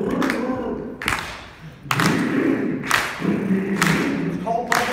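Audience members clap in a steady, loud rhythm roughly once per second during a song at an NCSM 2016 Ignite event, with a voice doing a bubbling vocal-cord exercise over the claps.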